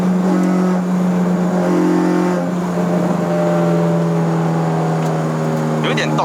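A 2018 Honda City with a K20A engine revs above 5000 rpm, a steady loud drone with strong harmonics holding under a raised voice talking throughout.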